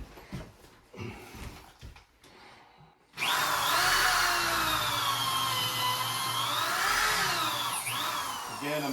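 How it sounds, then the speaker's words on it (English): A power drill fitted with a countersink bore bit drives into a wooden stair post to secure a railing, starting abruptly after a few quiet seconds of handling noise and then whining loudly and steadily up close. "this is where you're going to be drilling to secure your railing into your post"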